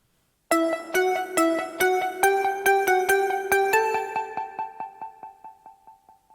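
Genesis Synth Shot 16 and Synthmaster synths layer into one trap melody of steady eighth-note plucks with chord-like stacked tones, delay tails ringing after each hit, ending in a gradually fading run of repeated notes; instrumental, no voices.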